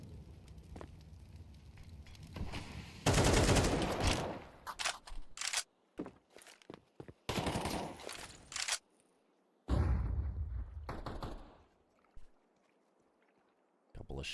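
Gunshots in a Counter-Strike pro league match, several loud bursts of fire separated by quieter stretches, with faint game sounds between them.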